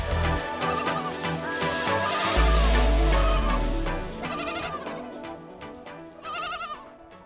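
Goats on a mountain farm in China bleat loudly and repeatedly, several wavering calls overlapping and following one another close by, with a deep rumble underneath in the middle.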